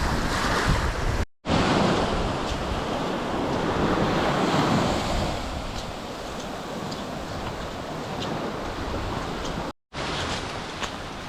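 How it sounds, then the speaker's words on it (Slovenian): Ocean waves breaking and surging on a beach in the Maldives at high tide, a loud continuous wash of surf with heavy wind buffeting the microphone and two brief dropouts. "Glavno težko prideš, ko val pride in te spodnaša."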